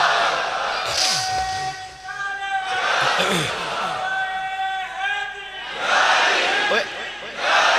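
A crowd at a religious sermon gathering shouts a devotional slogan in unison, with several loud surges of massed voices rising and falling in quick succession.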